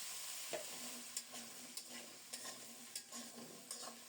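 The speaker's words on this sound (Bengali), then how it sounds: "ওই তেলেই আলুগুলো লাল লাল করে ভেজে নেব।" Potatoes frying in oil give a steady, soft, hissing sizzle, broken every half second or so by a light scrape or clink of stirring.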